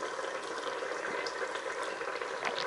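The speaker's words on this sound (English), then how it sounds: "Okay, so it's nicely boiling away there." Curry sauce for a salmon fish curry bubbles in a pan, a soft, steady simmer of small popping bubbles, quiet and close, with no talking.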